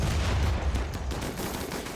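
Continuous dense gunfire crackles through a Factioncide II battle, loud and steady for the whole two seconds with rapid overlapping shots and deep low rumble, no speech.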